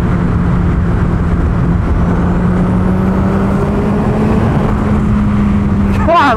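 A 300-horsepower turbocharged Hayabusa motorcycle accelerates on boost, its engine note a loud, steady drone heard up close from the rider's position with heavy wind noise, ending in a brief rising whine.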